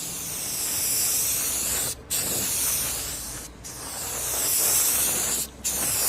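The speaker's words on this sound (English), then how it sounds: "you want to keep your spray can about 6-8 inches away" An aerosol spray paint can hisses in three long steady bursts across a wind turbine tail fin, each separated by a brief pause, loud and close.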